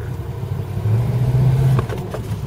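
A 1978 Ford LTD on a test run accelerates with a low engine drone that swells and holds, then eases off, with some clatter near the end.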